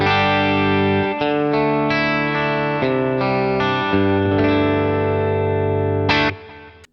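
Distorted electric guitar played through a Boss Katana amp with a light compressor effect, sustained chords changing in steady rhythm, loud and close, with a sharp accent near the end before the notes fade out.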